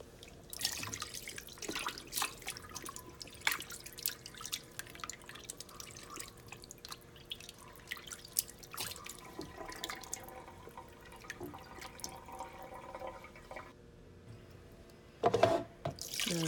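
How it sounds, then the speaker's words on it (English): Water drips, trickles and drains in a kitchen sink while raw chicken is rinsed, with soft irregular splashes and drips close by and a louder splash near the end. "Now I'm just draining the water and removing all those excess like fat chunks in the water, and I am rinsing the meat again."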